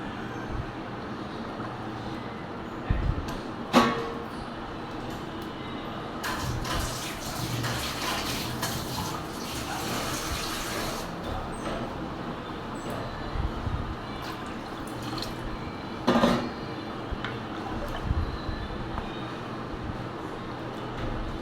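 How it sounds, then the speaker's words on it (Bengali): Water pours and splashes into a pot for several seconds over a steady background hiss, with a couple of sharp knocks; no talking. "পানিটা আর একটু দিয়ে দিলাম।"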